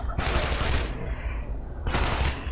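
Gunfire in the video game Shadow Warrior: two dense bursts of rapid shots, close and loud, separated by a short lull with a thin electronic tone.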